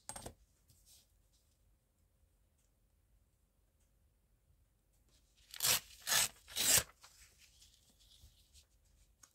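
Scissors trimming an image cut from a magazine page, three quick crisp snipping and rustling bursts close by after a quiet stretch.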